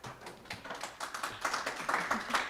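A small group claps in a school board meeting room, with quick, soft, uneven claps that continue steadily and sound faint and somewhat distant.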